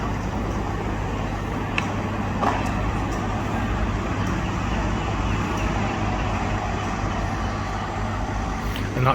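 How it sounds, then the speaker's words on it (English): An Optare Solo midi bus runs through busy street traffic in central Plymouth, its steady engine rumble blending with passing vehicles and a continuous roadway hum, moderately loud throughout. "And that's an Optare Solo midi bus."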